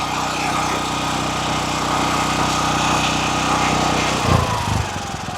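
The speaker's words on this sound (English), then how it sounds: "I'm going to switch idle control on." A DuroMax XP13000EH generator idles steadily with its idle control switched on, a constant close engine drone with a slight thump and shuffle near the end.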